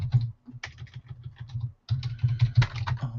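Fingers type on a computer keyboard in quick, close clattering bursts, with a short pause partway through before the rapid keystrokes resume.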